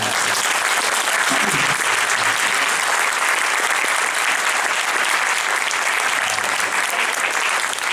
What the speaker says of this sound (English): why don't you join me in a round of applause